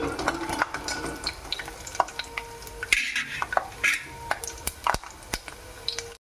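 Ingredients for pulihora, a festival prasadam dish, fry in a pan while a spatula stirs and knocks against the metal, giving irregular sharp clinks and scrapes over a low sizzle, close and fairly loud, without talking.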